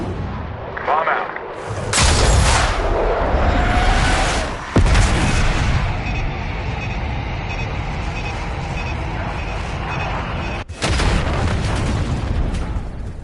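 Heavy booming explosions and bursts of gunfire from a Call of Duty Black Ops 6 battle, loud and dense, with sharp blasts cutting through a continuous roar and voices speaking beneath.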